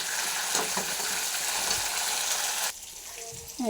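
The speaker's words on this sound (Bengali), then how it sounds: "অল্প পাল্টা করে অল্প ভেজে নেব।" Pointed gourd frying in oil in a pan with a little salt, a loud continuous sizzle with occasional stirring scrapes that drops away near the end as a voice begins speaking.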